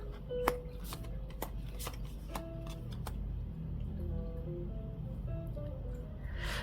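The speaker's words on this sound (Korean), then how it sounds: "어떤 사람이 들어올까요에 대한 카드를 뽑아보도록 할게요" Tarot cards being shuffled up close, quick papery riffles and taps bunched in the first half, then a softer, steadier rustle, no voices.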